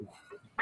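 A duck or goose honks once, loud and close, at the very end of a short stretch of faint background murmur at Chesapeake Bay.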